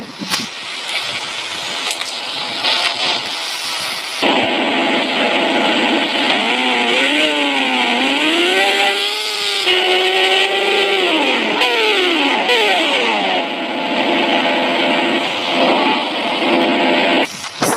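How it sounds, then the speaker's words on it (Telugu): A motorcycle engine runs steadily throughout on a ride to the beach, its pitch climbing and falling as the rider speeds up and eases off, loud and close with no talking. "బైక్ వేసుకుని వెళ్ళిపోదాం"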